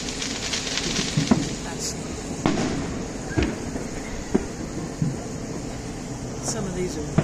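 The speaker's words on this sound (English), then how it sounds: "some of these are like just a bunch of little firecrackers that are still tied together instead of separated" Strings of small firecrackers still tied together pop off at a distance during an Independence Day evening, irregular sharp cracks and bursts over a steady rushing background hum, with faint voices around.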